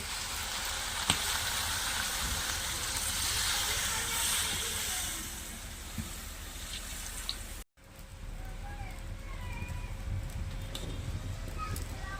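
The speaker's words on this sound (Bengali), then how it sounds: "এবারে মাংসতে জল দিয়ে দিচ্ছি" Water hits sizzling chicken curry in a pan, a loud steamy hiss that drops off sharply partway through, then settles into a quieter bubbling simmer.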